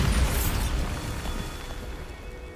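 A Bombarda spell explosion in Hogwarts Legacy bursts with a heavy boom at the start, then a rumbling blast tail slowly fades over the next couple of seconds, with no voices.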